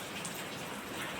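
Rain falls outside during a monsoon day, a soft, steady hiss of drops on surfaces, fairly quiet and continuous with no voices.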